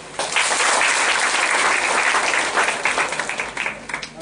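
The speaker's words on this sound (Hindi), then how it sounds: "इनके लिए तालियां बजाएं." Loud, dense applause fills the room at a workshop session, holding steady before breaking into more separate claps as it winds down near the end.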